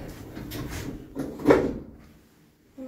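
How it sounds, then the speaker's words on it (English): Pickerings lift doors slide shut in a car park lift, a soft rumbling glide with a dull thud as they meet, faint and close with no talk. "Doors closing."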